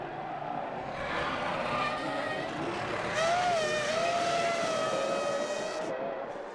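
Formula One race cars in Montreal, including a Renault, howl past on track, their high-pitched engine whine rising and falling over steady broadband track noise.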